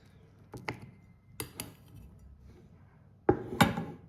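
A spoon stirs and scrapes a thick coconut truffle mixture in a bowl, giving a few sparse clinks and taps, with two sharper knocks near the end and no talking.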